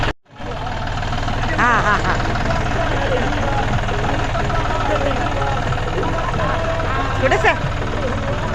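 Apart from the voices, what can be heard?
tractor engine running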